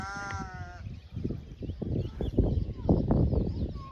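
Goats bleat nearby during rain, starting with one clear high bleat before rustling and livestock movement noises fill the rest, with a few faint calls.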